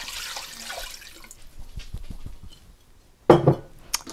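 A quart jar of ham bone broth is opened in a kitchen: soft handling and faint clinks, then a sudden loud glassy pop of the lid coming free, with a small click after.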